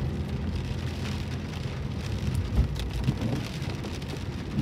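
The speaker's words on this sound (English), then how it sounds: "the rain started to come down a little bit heavier now." Heavy rain pours steadily onto a moving car on a drive through Blackpool, a dense, constant hiss and patter with a deep rumble of road noise underneath.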